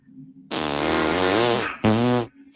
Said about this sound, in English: We can also fart loudly